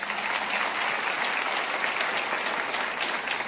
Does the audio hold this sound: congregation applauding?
yes